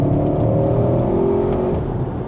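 A 2020 Audi RS6 engine holds a steady, throaty rev, loud and close, with a low rumble that eases slightly near the end.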